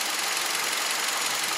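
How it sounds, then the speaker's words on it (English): A 2008 Nissan Altima engine idles roughly and stumbles, a steady, loud mechanical drone with an uneven tremor running through it and no voices. "You can see the engine is stumbling a little bit."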